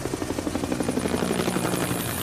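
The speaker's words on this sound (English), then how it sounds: "In a combat zone, nothing is more vulnerable than a helicopter maintaining a high hover." A military medevac helicopter holds a high hover over a combat zone, its steady rotor beat and turbine whine loud and continuous throughout, with no voices.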